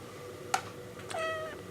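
A cat meows twice nearby, a short chirp followed by a longer, drawn-out meow over quiet room noise.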